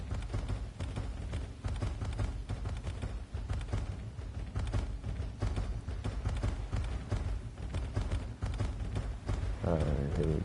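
A horse galloping in the video game Dark Essence, a steady rapid drumming of hooves, low and continuous under a game soundtrack, with a brief tonal effect near the end.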